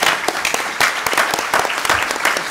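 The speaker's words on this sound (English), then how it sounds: "Can I ask for one more round of applause for Lane, please?" A seminar audience applauds with many hands clapping in a loud, crisp patter that keeps up throughout without pause.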